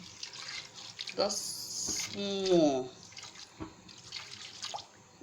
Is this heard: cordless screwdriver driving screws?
no